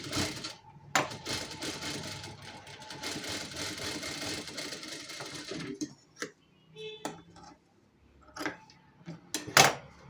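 Sewing machine stitching the katori seam of a blouse, running in a steady loud whir for about six seconds, then breaking into short separate bursts of stitching with pauses between.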